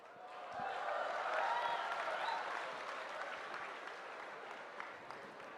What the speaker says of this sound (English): let's welcome with a huge round of applause the showstopper